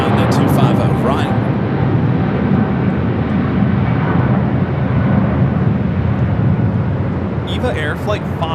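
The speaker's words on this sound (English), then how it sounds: "Eva Air Flight 5 taking off to Taipei on the 777-300ER" An Eva Air Boeing 777-300ER taking off at LAX with a loud, sustained jet engine roar close by, steady throughout, and a voice speaking briefly near the start and end.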